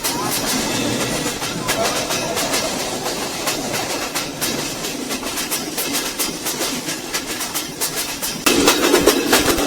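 Betna Express, a commuter train near Jashore Junction, rumbles along with loud, steady wheel noise and rhythmic clickety-clack, and it grows louder near the end.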